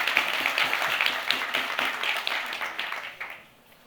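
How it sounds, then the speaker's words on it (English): Audience applause in a crowded room at a lunch event in Hong Kong, a dense patter of clapping that holds steady before fading out near the end. "Yeah, a round of applause for that,"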